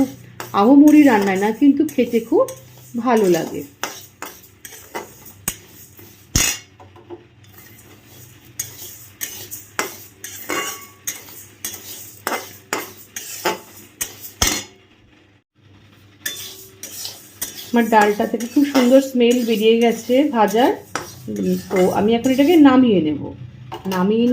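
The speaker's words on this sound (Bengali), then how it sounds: "ডালটাকে ভালো করে আগে ভেজে নিই" Moong dal dry roasting in a pan is stirred with a utensil, making repeated scraping strokes and light clinks against the metal while a person talks over it.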